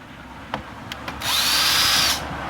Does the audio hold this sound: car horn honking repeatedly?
no